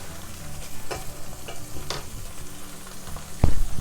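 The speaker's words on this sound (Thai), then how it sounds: "ก็ได้เอาไปย่างใส่กระทะเรียบร้อยนะคะ" Tofu sizzling and crackling steadily in a hot pan, with occasional scraping and clinks of a utensil stirring, close by.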